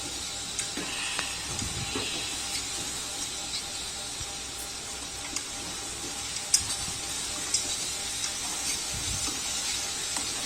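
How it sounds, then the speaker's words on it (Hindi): Bhindi (okra) sabzi frying in a pan while being stirred, a steady close sizzle and hiss with light scraping taps of the spoon scattered throughout. "अच्छे से इसको मिक्स कर देंगे।"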